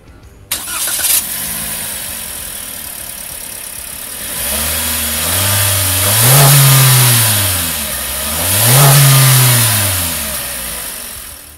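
Toyota All New Veloz with a 1500cc engine cranks and fires, settles briefly, then is revved twice in rising and falling sweeps, loud and close with no talking.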